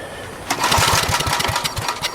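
An abandoned Generac generator's small engine, running on bad gas with carb cleaner added, chugs loudly in a fast, uneven rhythm as it struggles to keep going.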